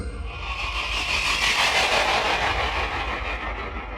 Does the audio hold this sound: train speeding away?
yes